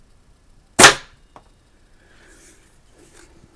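A Stoeger S3000 shotgun fires a single sharp shot at a target, a loud close report that decays quickly, followed by quiet with a faint distant knock.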